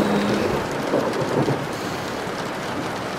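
A thunderstorm with steady rain pouring on surfaces and low rumbling thunder rolling through in the first seconds, the downpour continuing evenly after the thunder fades.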